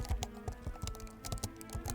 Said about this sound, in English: hopped back on his computer, typing away